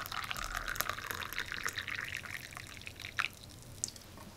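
Hot water poured into a cup for an Arduino tea maker, a soft, faint trickling with small drips and splashes, steady and close with low background hum.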